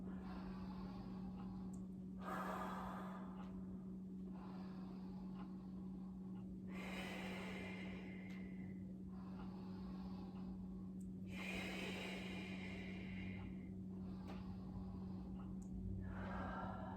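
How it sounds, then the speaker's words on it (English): Slow, deep breaths during a workout cool-down, faint airy inhales and exhales repeating every few seconds over a low steady room hum. "Inhale, feel your stomach fill up with air."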